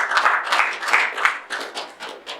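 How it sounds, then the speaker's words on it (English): Applause from an education conference audience, a brief patter of clapping that swells and fades in uneven bursts, moderately loud and somewhat distant, with no voices over it. "I think we deserve a round of applause for that."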